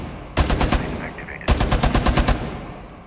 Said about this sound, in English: Or I'll just shoot it down.